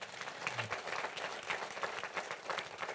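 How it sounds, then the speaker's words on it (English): Audience applause at the launch of a national financial inclusion strategy, steady, moderately loud clapping from a crowd that holds through the whole stretch. "big round of applause, ladies and gentlemen"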